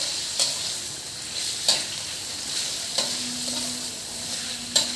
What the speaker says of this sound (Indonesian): ini aku aduk-aduk hingga menyatu dengan bumbunya tadi